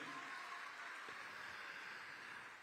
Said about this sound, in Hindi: ऐसे वो 300 खिलाड़ियों के, 300 अधिकारियों के लिए भी जोरदार तालियां बनती है भाई।